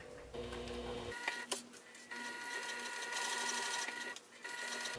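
A sewing machine runs close by, stitching a crossbody bag seam with piping in a fast, steady mechanical whir, pausing briefly at a few points before continuing.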